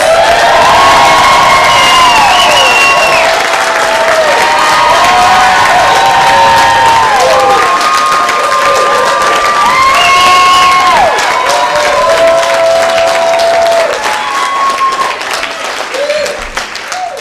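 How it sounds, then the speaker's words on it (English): A large fan convention crowd in Texas roars with sustained applause, cheers and whoops as actor Carl Weathers walks on stage, loud and continuous, gradually thinning toward the end, with some voices shouting within the noise. "what did I do to deserve this kind of applause?"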